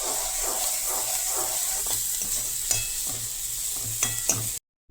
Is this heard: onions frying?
yes